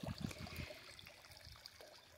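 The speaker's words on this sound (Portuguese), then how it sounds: "tá pingando água da fonte aqui" Water dripping and trickling from a garden fountain, a soft, faint, continuous patter outdoors with a few louder splashes at the start.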